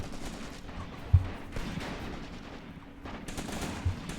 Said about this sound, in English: You can just hear those MP40s firing away.